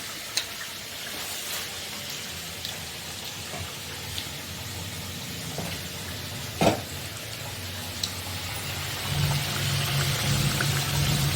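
Potatoes frying in a pan give a steady, close hiss of sizzling oil throughout, with a few faint clinks and one sharper knock partway through.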